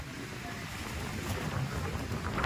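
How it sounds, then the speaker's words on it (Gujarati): Strong wind gusting across a hilltop at Chotila, a continuous buffeting roar with rumbling bursts against the microphone, fairly faint and uneven, with no talk. "પવનનો અવાજ એટલો આવે છે ને"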